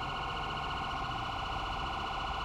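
Police vehicle siren in the video game GTA 5, a steady, loud electronic wail holding continuously through the short stretch with no talking.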